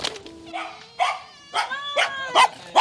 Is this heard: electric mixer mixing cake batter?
no